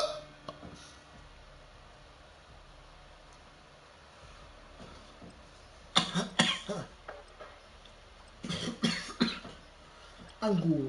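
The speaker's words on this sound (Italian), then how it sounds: "fumo di merda, mi va nel naso e mi fa tossire" During a Warzone 2.0 gaming session, a man coughs in a few harsh, clustered bursts from smoke, close to the microphone and spaced apart over a quiet background with some faint speech.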